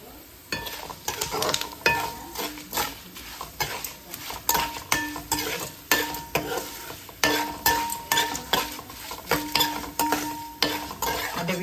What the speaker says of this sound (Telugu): పప్పు మాడకుండా కొంచెం కలర్ వచ్చేదాకా కొంచెం వేయించుకోవాలి